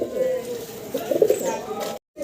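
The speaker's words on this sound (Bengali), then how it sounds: "আপনারা কবুতরগুলো দেখতে পারতেছেন খুবই সুন্দর দেশি কবুতর" Domestic pigeons coo in soft repeated low calls, close and clear, with someone talking over them for much of the time before a short cut to silence.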